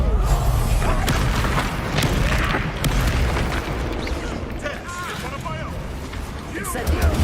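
Spell blasts from Hogwarts Legacy gameplay, Incendio fire bursts and Descendo slams, booming repeatedly through dense, continuous game noise with a low rumbling bed and scattered crackles, close and loud throughout.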